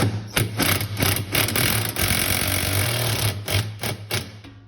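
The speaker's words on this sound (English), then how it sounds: "I'm going to use my drill" A power drill whirs in short bursts, pulsing and buzzing as it tightens a fastener during a Whirlpool washer transmission replacement, with brief gaps between pulls on the trigger.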